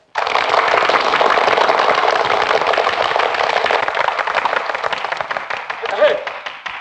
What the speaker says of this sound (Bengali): এবার হাততালি